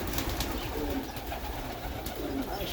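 Pigeons cooing nearby in a steady, continuous murmur of soft throaty calls, overlapping one another with no pauses across the whole stretch.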